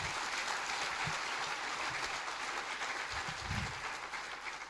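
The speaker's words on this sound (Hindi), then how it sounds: "तालियां दे सकते हो" Audience applause at a Hindi motivational talk, a steady dense wash of clapping filling the whole stretch, fairly faint and distant, with no voice over it.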